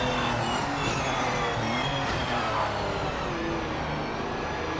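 Porsche Cup race car in a racing video game at Derby, engine droning steadily at close range while a front tyre briefly locks up with a faint scrub under the constant engine roar, no talk.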